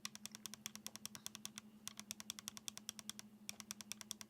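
Clicky buttons on a Retroid Pocket Flip 2 handheld are pressed in rapid, steady succession, each a sharp, close click, over a faint constant hum.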